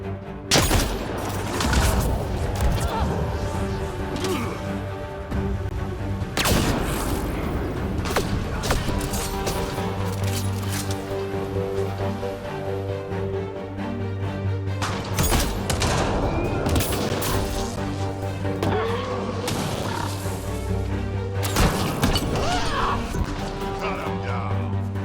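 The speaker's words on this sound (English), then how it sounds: "Shooting to kill!" Gunfire and crashing impacts fill a Mass Effect Andromeda firefight, with repeated bursts of shots and heavy hits coming at irregular intervals over a busy combat soundscape.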